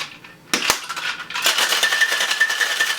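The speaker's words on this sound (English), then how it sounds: "Shake vigorously." A cocktail shaker of ice, vodka, lemon juice and St-Germain is shaken hard, a sudden loud clack followed by steady, close, continuous rattling and churning of ice for a few seconds.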